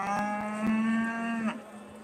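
An Aberdeen-Angus cow at a cattle show lets out a single long, loud moo, close by and alone, with faint hall noise behind it.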